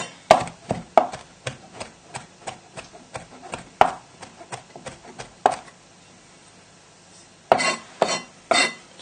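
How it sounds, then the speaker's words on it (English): A knife chops fresh thyme finely on a board in quick, rhythmic taps, close and crisp, pausing briefly before a final flurry of cuts. "So just chop it up nice and finely."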